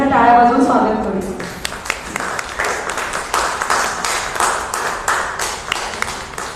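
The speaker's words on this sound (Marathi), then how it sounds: "आपल्या सर्वांनी त्यांच्या टाळ्या वाजवून स्वागत करू." An audience at a local talk event claps to welcome a guest onto the stage; a voice speaks briefly at first, then steady applause with sharp individual claps fills the hall.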